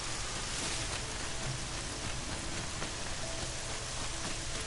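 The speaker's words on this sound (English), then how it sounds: "Oh, I don't like that rain effect." Steady rain falls in the video game Horizon Zero Dawn, a dense, even hiss of drops that stays loud and unbroken from start to finish with no voices.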